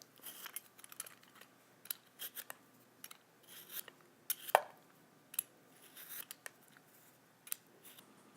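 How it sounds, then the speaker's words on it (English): A vegetable peeler scraping the skin off a kiwi, a series of soft, short rasping strokes in an irregular rhythm, close and faint, with no talking. "Then I'll use a vegetable peeler to peel it."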